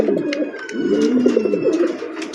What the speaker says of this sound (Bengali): পায়রাটায় ডাক দেখেন, পায়রাটা